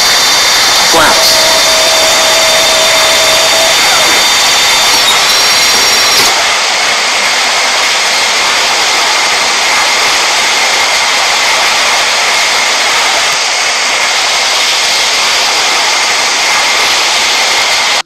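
Jet airliner engines at takeoff thrust in the Real Flight Simulator game roar loud and unbroken throughout, with a thin high tone riding over the blast during the first few seconds.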